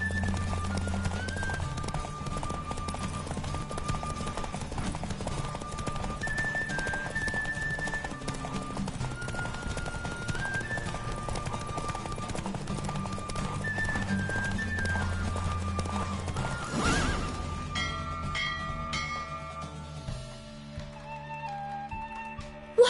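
Horse galloping in a Witcher video game race, a fast continuous clip-clop of hooves under game music, ending with a brief clatter as the ride slows.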